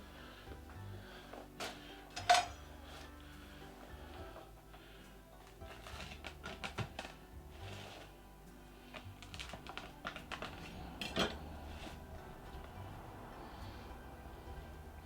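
A freshly baked pizza from an Ooni pizza oven being cut into slices: a scattered run of crisp, crunchy clicks and cracks as the blade passes through the crust, with one sharper snap early on, close and fairly quiet.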